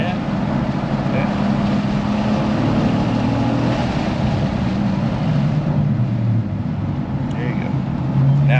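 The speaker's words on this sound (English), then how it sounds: "squeeze on the throttle, rev it out up to third." Cadillac CT4-V Blackwing engine pulling hard on Thunderhill West, a steady loud drone with rising pitch through the revs, heavy wind and cabin rumble, and a driving coach talking over it.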